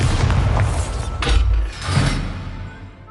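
A Bombarda blasting spell goes off in Hogwarts Legacy, a heavy booming explosion with a low rumbling burst and crackling debris, loud and close, rising again briefly before fading.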